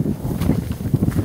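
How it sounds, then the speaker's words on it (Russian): Strong wind blowing outdoors across a strawberry field, a steady low rumbling buffet against the microphone with gusty swells throughout. "Ветер сильный этой."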